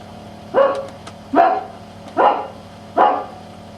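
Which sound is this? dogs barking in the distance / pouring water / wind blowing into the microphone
dogs barking in the distance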